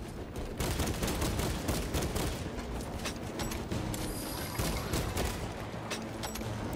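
Bolt rifle fire in Space Marines 2, a dense, continuous stream of loud, punchy shots with mechanical clatter mixed in, close and steady from start to finish with no voices.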